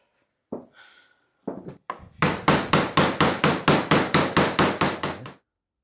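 A hammer strikes an aluminium fairing panel for a kit car: a few scattered taps first, then a loud, even run of about a dozen sharp metallic blows close by, with no talk.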